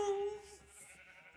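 A sheep in the Minecraft video game gives a short, clear bleat that fades into faint background sound, heard up close and alone.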